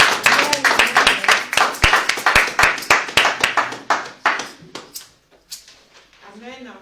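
A church congregation at a Sunday thanksgiving service claps in a quick, steady rhythm, loud and close, then the clapping thins out and voices rise at the end.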